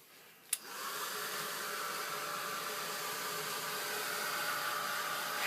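A handheld heat or hair dryer blows steadily to dry layers of ink on a paper craft stamping project, a click then a continuous close broadband whoosh that holds level to the end with no talking.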